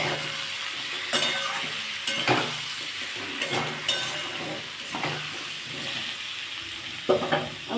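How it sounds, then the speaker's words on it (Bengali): Gourd and rohu fish sautéing in a pan with chilli powder, turmeric and salt, a steady sizzle with scattered scrapes and clinks of a spatula against the pan, no talk. "পরিমাণ মতো হলুদ পরিমাণ মতো নুন সব দিয়ে বন্ধুরা এটা কষিয়ে নেবো"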